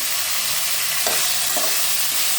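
Onions and tomatoes sautéing in a pan for a kuzhambu, giving a continuous loud hiss of frying with a couple of brief stirring scrapes, close up and without voices.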